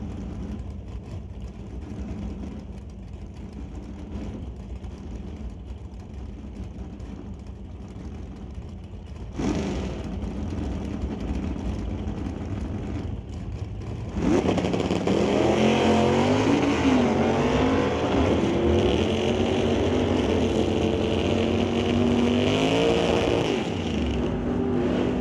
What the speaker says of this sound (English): John DeBoer brings up the 1977 Camaro facing off against Jamie Roth and his 1964 Comet